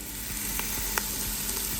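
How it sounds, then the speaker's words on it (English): Onions sauté in hot oil for a gluten-free chicken and wild rice casserole: a continuous close sizzle, with a few faint clicks of a utensil on top. "We're gonna get our onions in, and we're gonna saute those until they're light golden on the edge"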